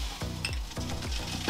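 Roast lamb sizzling on a Weber Baby Q while olive oil is basted over it, a steady close fry with a few soft clinks and scrapes of a utensil.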